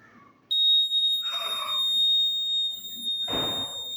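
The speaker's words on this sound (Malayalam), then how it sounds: "ഇതാണ് അലാം." An electronic buzzer alarm switches on and holds a steady, piercing high-pitched tone, loud and close, with some rustling and handling noise underneath.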